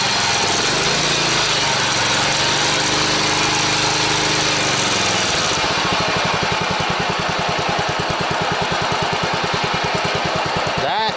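A walk-behind lawn mower engine on choke catches after a pull start, first scraping and sputtering, then settling into a loud, steady, close-up chugging run.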